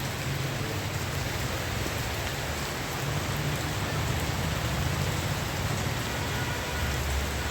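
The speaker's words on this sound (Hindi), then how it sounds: "मॉर्निंग वॉक के समय और नहर के किनारे तेज़ बारिश है" Heavy rain pours steadily beside the Ganga canal in Roorkee, a dense continuous hiss of drops with a low rumbling undertone, even and unbroken throughout.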